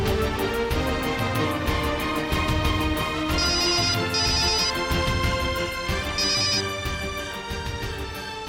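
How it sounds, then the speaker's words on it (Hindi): A telephone rings in repeated short electronic bursts over a loud, continuous dramatic music bed. "कितनी देर लगा दी फोन उठाने में?"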